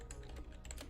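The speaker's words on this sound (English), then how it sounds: "So I need to use my keyboard" Quick keystrokes on a computer keyboard, a short burst of light clicks in irregular rhythm, fairly faint and close, with no talking.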